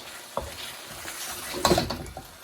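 Minced meat (keema) fries in a pan while being stirred: a soft continuous sizzle with a few scraping knocks of a spoon against the pan, the loudest burst near the end.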